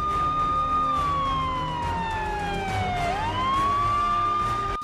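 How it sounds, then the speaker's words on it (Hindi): Hooter siren fitted on a vehicle wailing close by, a single steady tone that sweeps down and then quickly back up, sounding loud and continuous over faint background noise. "हूटर सायरन के इस्तेमाल की इजाजत अगर लिमिटेड लोगों को विशेष परिस्थितियों में करने की इजाजत है"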